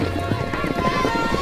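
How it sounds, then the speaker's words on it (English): Outdoors on open range, children round up horses whose hooves clip-clop in a steady, busy patter under constant background noise. "Outside, we watch the kids round up some of their horses."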